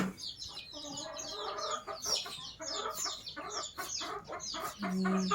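Chickens, including barred hens, cluck and chatter in a lively, irregular stream of short calls, fairly close, with several birds overlapping and a brief sustained tone near the end.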